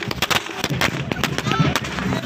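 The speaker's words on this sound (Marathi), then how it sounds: "फटाक्यांची आतषबाजी," Firecrackers bursting during a street procession for the saint Balumama, with sharp, rapid pops and cracks in an irregular cluster, mixed with crowd noise.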